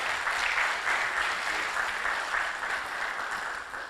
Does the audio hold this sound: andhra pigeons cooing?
no